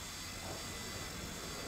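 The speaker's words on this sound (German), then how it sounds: "Guck dir den Helikopter an." Helicopter in the video game One Way Home, a continuous droning rotor and engine roar at steady, fairly low level with no distinct beats; no speech.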